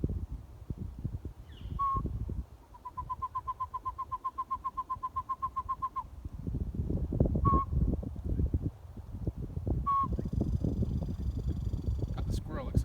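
A person imitates a pygmy owl's toot call with short, single whistled notes spaced apart and a long rapid series of evenly repeated toots, outdoors during a bird count, with rustling and movement noise around.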